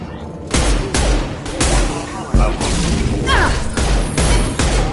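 Gunfire rattles through a battle in Mass Effect, with repeated loud bursts and bangs close by, crashes and impacts mixed in, and voices calling out between the shots.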